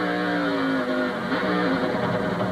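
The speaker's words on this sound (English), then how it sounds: "When he downshifted the car, you hear that bub, bub, bub, bub. That was the rear wheels hopping." NASCAR stock car engine at a road-course race, rumbling and revving steadily through a downshift with a faint rapid stuttering pulse as the rear wheels hop, loud and close with no talk.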